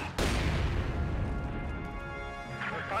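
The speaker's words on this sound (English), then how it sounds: "Korean Army has fielded a mortar of his own" A mortar fires in a real-time strategy game match, one sharp blast near the start with a booming crash that rolls off into a long decaying rumble under busy battlefield noise.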